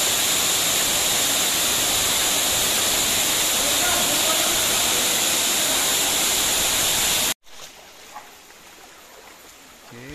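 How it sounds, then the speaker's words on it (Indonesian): The Cepung waterfall roars loudly through most of the clip with thick steady rushing noise, then cuts abruptly to a much quieter background. "Saksikan bersama-sama air terjun Cepung dari sini."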